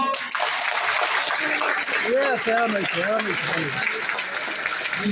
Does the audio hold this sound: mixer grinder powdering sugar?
no